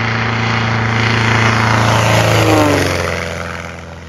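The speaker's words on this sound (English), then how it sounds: "my little Kitfox sounds kind of like a 1950s hot rod right now" A Kitfox light aircraft's Continental O-200 engine running with the mufflers removed, a loud, close, throaty drone with a rough rumbling beat that holds steady, swells briefly, then tapers off.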